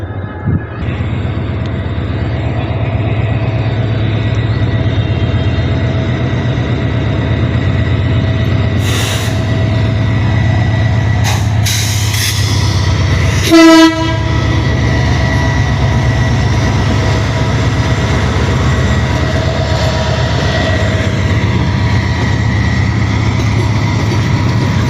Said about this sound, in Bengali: ট্রেন ঢুকতেছে